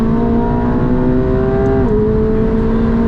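A McLaren 750S on the Las Vegas Motor Speedway at full throttle, a loud steady engine drone rising in pitch, with a brief dip as it shifts before pulling on again, close and continuous throughout.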